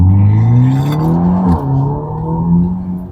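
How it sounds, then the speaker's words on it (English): Turbocharged Mercedes-Benz SLC300 roadster pulling hard under boost, a loud, close engine note climbing steadily, briefly dipping at a shift, then climbing again, with no talk over it. "that turbo boost is insane"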